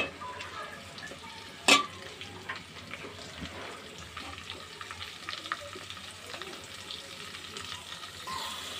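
Shrimp frying with onion, green chili and garlic paste in a pan, giving a steady close sizzle with stirring clatter and one sharp utensil knock near the start.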